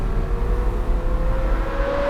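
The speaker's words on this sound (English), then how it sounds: "any supercar of any description and with any configuration has to have an unmistakable, incredible engine, and the Carrera GT most certainly has that" Porsche Carrera GT supercar engine holding a steady, loud drone with a slowly rising pitch, a continuous close mechanical roar and no voices throughout.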